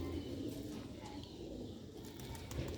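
An old-breed green pearl-spotted pigeon coos softly over a constant low background rumble, with a few faint chirps rising briefly toward the end.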